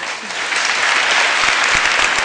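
A studio audience at a TV dance competition breaks into dense, sustained applause, loud and even from start to finish, with scattered individual claps standing out near the end.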